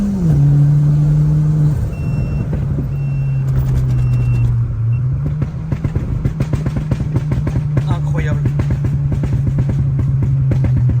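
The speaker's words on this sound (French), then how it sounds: "Le pop il est interminable." A Peugeot 206 tuned to 250 horsepower crackles through its exhaust with a rapid run of pops over a steady idling engine. A voice exclaims briefly partway through.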